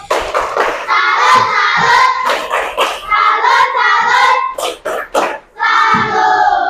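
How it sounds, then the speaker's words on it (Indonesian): A classroom of children performs a rhythmic 'tepuk salut' clapping cheer during a lesson, loud and close, with patterned bursts of claps mixed with shouted chanting voices. "Kasih tepuk salut untuk Putri."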